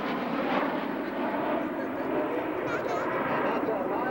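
An F-117 jet making a high-speed pass at an airshow, a steady broad roar held for the whole span with a public-address voice talking over it.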